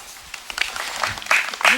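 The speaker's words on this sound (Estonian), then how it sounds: "Mini-aplaus" A brief, light round of applause from a small camp group on Saaremaa, soft scattered clapping lasting under two seconds with faint voices in the background.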